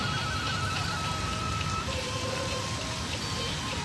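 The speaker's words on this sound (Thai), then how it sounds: "ในกลางฝนถ่ายเลย" Steady rain falls outside a temple in Chiang Mai, a dense, even patter of drops on surfaces that carries on without a break and without voices.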